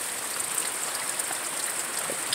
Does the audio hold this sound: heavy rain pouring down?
yes